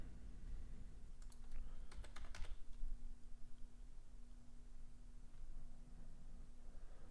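Quiet typing on a computer keyboard at a trading desk, a scattered run of soft clicks with one denser burst of keystrokes, heard alone at low level over a faint steady hum.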